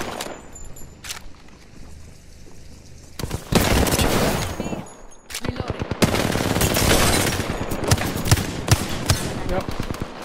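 Gunfire in the battle royale game Apex Legends during an endgame fight, with dense bursts of automatic shots and sharp cracks coming in clusters, loud and close, running almost continuously after a quieter opening with some talk.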